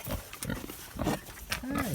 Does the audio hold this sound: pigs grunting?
yes